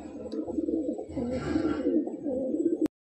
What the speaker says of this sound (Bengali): সুন্দর কোয়ালিটির পায়রা।